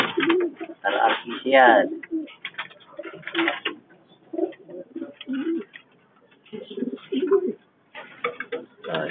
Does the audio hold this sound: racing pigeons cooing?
yes